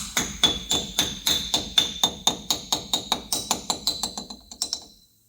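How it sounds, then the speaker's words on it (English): Steady rapid hammer blows on metal while fitting front brakes on a second-generation Ram truck, about twenty sharp ringing strikes in even rhythm, close and loud, stopping abruptly. "This is a hammer, everything's a hammer"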